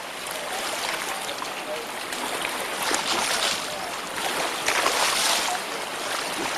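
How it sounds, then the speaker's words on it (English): Rushing river rapids in a wooded Southwest Virginia state park, a steady broadband wash of water, fairly loud and continuous with slight swells in intensity throughout. "There's some kind of rapids up there, I believe."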